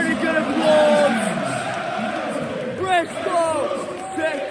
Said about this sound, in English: the teams are coming out now to a pretty good applause